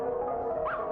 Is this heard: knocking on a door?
no